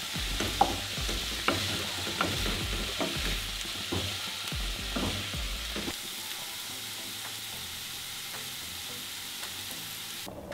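Peas and mushrooms frying in a pan, stirred with a spoon: a run of close scraping strokes over a constant sizzle for the first half, then the sizzle carries on alone and softer.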